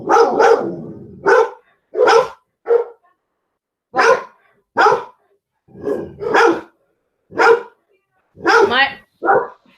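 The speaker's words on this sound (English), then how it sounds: "My dog Pogo is curious" A curious dog barks in repeated short bursts, clear and close, with irregular gaps between the barks; no one speaks during them.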